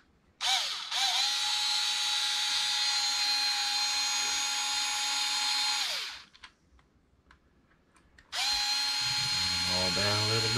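A power drill driving a bit on a Traxxas Maxx 4S RC car's front differential whines loudly in two sustained bursts with a short gap between, a faint voice coming in at the end.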